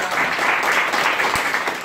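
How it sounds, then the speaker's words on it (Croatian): A church congregation claps together during a service, a brief, steady burst of applause at moderate loudness. "Zahvalite im pljeskom, može?"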